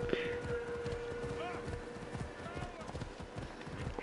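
A horse gallops in Assassin's Creed Odyssey, its hooves clopping in a quick, steady rhythm through the whole stretch, with people talking over the game sound.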